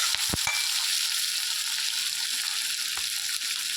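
Onion, tomato, ginger and garlic sauté in a hot pan for a paneer masala, giving a steady broadband sizzle with a few brief stirring clicks near the start and no voices.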